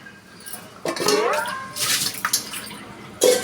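Tomatoes being washed in salted water, with splashing and sloshing in bursts and a brief pause between them, close by, with no one talking.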